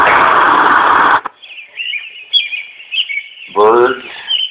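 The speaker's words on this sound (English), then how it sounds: "Birds." A white noise machine plays a bird sound setting after a loud fan setting cuts off, with steady high chirping and twittering throughout and a brief burst of a louder, harsher bird call near the end.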